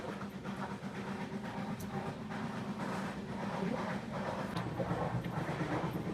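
Steady rumble and rattle of a moving passenger train heard from inside a carriage near its toilet, a continuous low drone with faint clicking, no voices.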